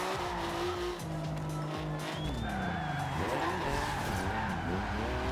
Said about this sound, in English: See, as it drifts that hairpin.